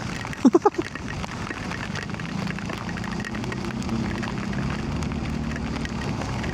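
Rain falls steadily on a motorcycle rider heading to Mt. Samat in Bataan, a constant rushing hiss blended with road and wind noise, with a brief burst of knocks near the start.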